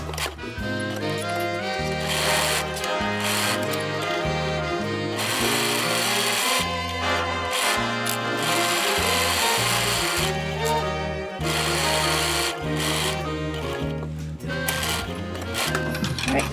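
A sewing machine runs a seam on a 1950s vintage-style coat, its needle whirring and clattering loudly up close in bursts, with brief pauses between runs.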